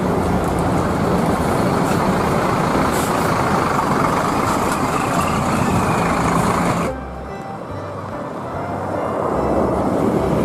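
Bus engine idling and rumbling loudly close by, with a sharp hiss and drop in sound partway through like an air brake release, followed by the engine building again.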